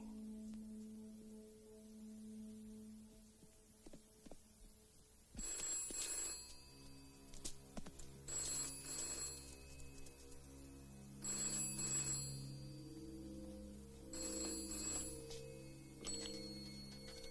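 An old-fashioned telephone bell rings in repeated bursts, four rings separated by short pauses, fairly loud in a quiet room.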